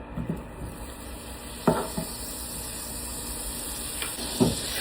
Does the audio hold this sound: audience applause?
no